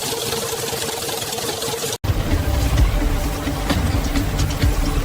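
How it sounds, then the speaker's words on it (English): Industrial chili pre-grinder crushing coarse dried chili fragments into flakes, a loud, steady mechanical rumble and hum. Partway through, an abrupt cut gives way to a heavier, fuller grinding drone. "Within the pre-grinder, raw power transforms coarse fragments into the initial potent flakes of chili."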